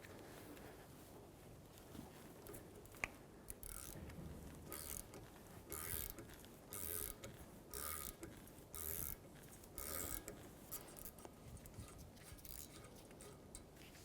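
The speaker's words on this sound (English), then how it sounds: "I'm going to use a round off socket and hammer it onto the top of the screw." Repeated metallic hammer strikes drive a rounded-off socket onto a brake dust shield screw on a 2003-2008 Honda Pilot, then ratcheting clicks as the screw is backed out, moderately close, in bursts with brief pauses.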